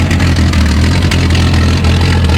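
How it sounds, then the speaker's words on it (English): A loud, close 1967 Ford Mustang straight six idles steadily with a rough, deep rumble, its exhaust rigged up, the tailpipe hanging and a little smoke coming off the worn engine. "it does run pretty decent for a straight six"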